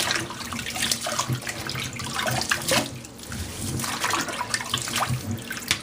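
Tap water runs steadily into a small sink while a box fan grille is rinsed under it, the flow splashing and shifting as the grille moves, close and continuous with no talk.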